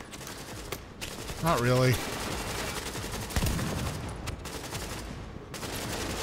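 Gunfire from a weapon in The Division video game, with a rapid burst of shots and a few sharp isolated cracks. Someone talks over and between them.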